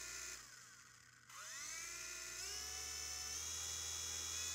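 Rotor motor of a V911 4-channel micro helicopter whining steadily at close range, its high electric tone dipping, then rising and shifting in pitch as the speed changes, with no talk.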